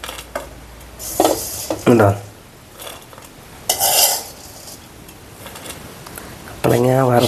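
Fried unripe papaya is scooped out of hot oil with a ladle, giving a few close metallic scrapes and clinks against the pan over a low sizzle while someone speaks briefly.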